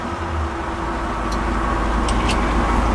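A 1966 Chevy truck drives along the road, its engine a steady low rumble with road and wind noise from inside the cab, plus a couple of faint high squeaks near the end.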